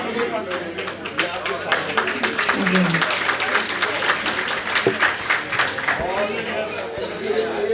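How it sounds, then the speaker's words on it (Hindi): An audience at a ghazal evening at the Ghalib Institute's Awan-e-Ghalib in New Delhi applauds a performer, steady clapping from a sizeable crowd under a voice speaking over it. "ज़ोरदार तालियों से इस्तकबाल कीजिएगा"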